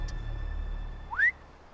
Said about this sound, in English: It's a weird whistle.